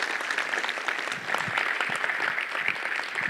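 A conference audience applauding a conference manager, a sustained dense patter of many hands clapping at moderate volume from a room crowd, with no speech over it.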